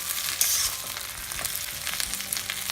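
Thai fried rice frying hard over high heat in a hot pan, a steady dense sizzle with crackles and a few sharp scraping stirs, close and fairly loud throughout.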